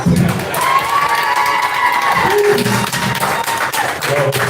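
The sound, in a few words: audience clapping and cheering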